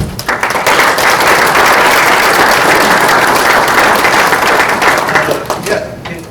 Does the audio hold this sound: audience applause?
yes